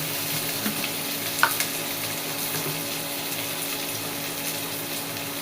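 Pumpkin pieces fry in a pan with ginger, green chilli and asafoetida, giving a steady soft sizzle with faint crackles throughout, fairly quiet and without talk.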